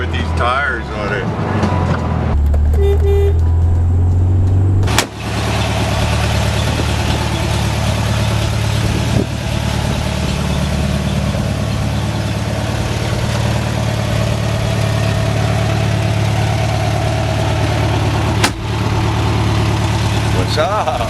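A 1972 Volkswagen Super Beetle engine idles steadily and loudly nearby, a continuous low air-cooled rumble, with a couple of sharp knocks along the way and people talking over it.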